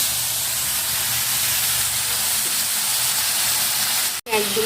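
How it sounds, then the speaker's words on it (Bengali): Whole garam masala spices dropped into hot oil in a home kitchen pan give a steady, loud frying hiss and sizzle, with a brief sharp crackle near the end. "গরম হয়ে গেছে, এবার দিয়ে দিচ্ছি গোটা গরম মশলা। খুব জোর ফাটবে,"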